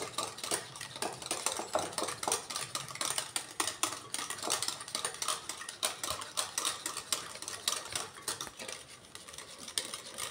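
Egg and biscuit batter being whisked in a bowl for homemade coin biscuits, a steady, fast scraping and clinking of utensil against the bowl, close and loud, continuing without talk.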